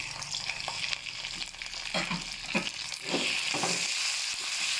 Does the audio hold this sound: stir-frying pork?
yes